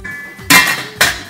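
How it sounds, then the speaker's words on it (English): Chopped onion dropped into a pan of oil while cooking Moroccan chicken, two sharp clattering bursts as the pieces hit, each trailing into a brief hiss. "Now I put in here onion."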